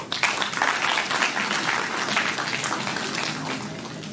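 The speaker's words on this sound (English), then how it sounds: "Audience, please give applause." An audience at a national conference applauds during a bouquet presentation, a dense, even wash of many hands clapping that carries steadily for several seconds without talk.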